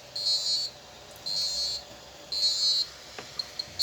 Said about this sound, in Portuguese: A tonalidade do buzzer muda porque ele está agora indicando a elevação da temperatura.